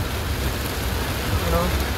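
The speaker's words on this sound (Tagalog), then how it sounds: "Lakas ng ulan." Heavy rain pours steadily in San Jose del Monte, Bulacan, heard from inside a moving vehicle as a dense, continuous hiss with low road rumble underneath and a faint voice in the background.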